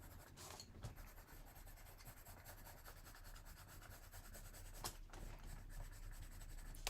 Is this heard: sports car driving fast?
no